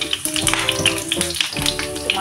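Chopped garlic crackling and spattering in hot oil in a pan, quick irregular pops and sizzles close up, with a voice and a faint tonal background underneath.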